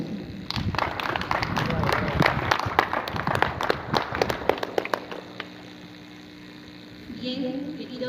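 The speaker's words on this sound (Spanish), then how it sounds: "la vamos a recibir con fuertes palmas" An audience at a gathering of Aymara, Quechua and Uros nations claps to welcome a speaker, a loud burst of clapping over a steady hum that dies away after about five seconds, leaving the hum alone.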